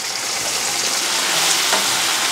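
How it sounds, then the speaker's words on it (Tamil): Okra sautéing in hot oil in a pan with softened onion and tomato, giving a loud, steady, close-up sizzle and hiss throughout with no pauses. "இப்போ வெண்டைக்காய் வந்து இதில் எண்ணெயிலே நல்லா வதக்கிக்கணும்"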